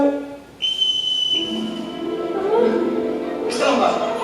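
A sharp referee-style whistle blown once at a flying lesson, a steady high tone holding for under a second, with a voice and other sounds following after it.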